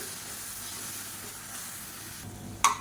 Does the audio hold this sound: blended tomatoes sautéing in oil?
yes